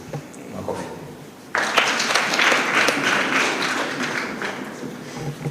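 Audience applause at a religious-political speech breaks out suddenly, a dense burst of clapping from many hands that stays loud and steady for several seconds before tapering slightly.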